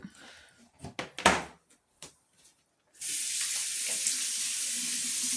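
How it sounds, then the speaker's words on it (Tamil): After a few small knocks and clatters, a tap is turned on and water pours steadily while hands are washed after grinding batter for idli and dosa, a close, continuous rushing hiss. "எல்லாத்தையும் முடிச்சுட்டு ஹேண்ட் வாஷ் பண்ணியாச்சு."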